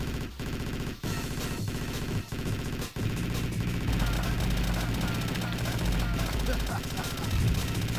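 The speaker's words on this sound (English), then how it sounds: "I might just dump all my rockets into it." Volleys of rockets fired at a boss in a video game, a rapid barrage of loud blasts and explosions with game music underneath, dense and continuous across the whole stretch.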